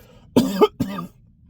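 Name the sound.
cough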